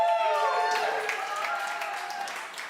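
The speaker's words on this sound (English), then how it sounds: "Give them a cheer while they do it" Awards ceremony audience cheering and clapping for winners making their way to the stage, with tonal whoops and a broad wash of applause that fades slightly, mixed with voices.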